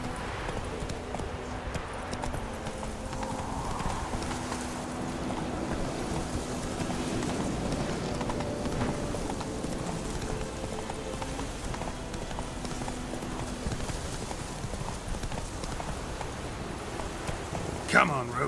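Roach the horse plods with steady clip-clopping hooves through falling rain in The Witcher 3, a soft rhythmic gait under a constant wash of rain, with a voice talking over it.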